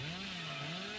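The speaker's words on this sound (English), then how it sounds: "They can't hear my chainsaw." A chainsaw in a video game drones steadily with a buzzing engine pitch that wavers slightly, faint and continuous for about a second with no voices.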